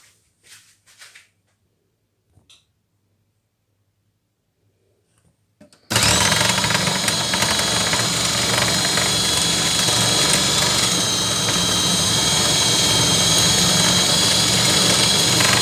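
A food processor blends liver for homemade pâté, starting abruptly after a few seconds of near silence with faint knocks, then roaring loudly and steadily with a dense whirring motor and chopping.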